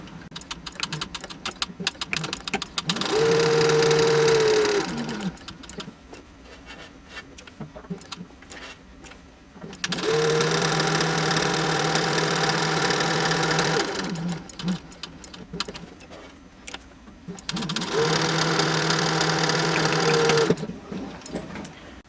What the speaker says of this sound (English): I will be sewing 1/8 of an inch from the edge of the side seams